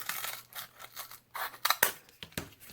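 Scissors snip through cardboard in a quick run of short, crisp cuts, close and loud with no talk.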